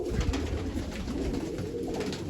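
A female pigeon coos softly nearby, low rolling throaty calls repeating over a couple of seconds.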